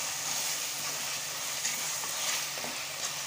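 Tomatoes and green chillies fry in a pan for a mutton kurma, giving a steady close sizzle with occasional stirring scrapes and no talk.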